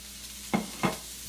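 Vegetables including onions stir-frying in a hot wok, a soft hiss with two quick scraping tosses of the spatula in a second or so, close and quiet.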